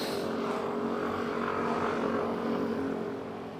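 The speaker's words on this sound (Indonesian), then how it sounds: "gue pakai knalpot Satria FU SCD ya, tenaga agak ngempos" A Yamaha Lexi 125 scooter with a bored-up engine, fitted with a Suzuki Satria FU SCD exhaust, drones in a steady, fairly loud hum that fades slightly toward the end, with no talking.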